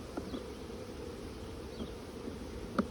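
Honey bees hum in a steady, dense drone at an opened hive during a brood inspection, close and continuous, with faint clicks of handling and no talk.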